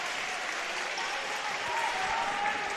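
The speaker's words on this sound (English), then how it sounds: "Crowds come alive, 25-24." Crowd in a high school gym cheering and clapping at a boys volleyball match between Warrenton and Orchard Farm, a steady broad roar that swells slightly toward the end.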